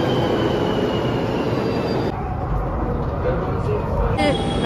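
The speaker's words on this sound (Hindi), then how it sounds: "मेट्रो भी आ रही है सामने से" A Delhi Metro train on the Dwarka line near Rajiv Chowk rumbles loudly along the rails, with steady metallic wheel squeal and shifts in the roar as the carriage moves.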